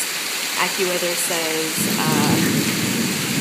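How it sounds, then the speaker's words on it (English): Heavy, steady tropical downpour in the Mayan Riviera during a thunderstorm roars loudly, with a brief spoken voice over it at the start. "It's been raining like this for like 2 hours."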